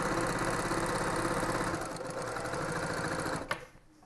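A sewing machine runs steadily while stitching quilt strip sets, a continuous close mechanical whir that slows briefly, then resumes. It stops with a sharp click near the end.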